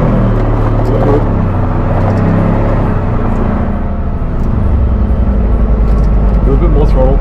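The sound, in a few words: car engine revving while driving on sand dunes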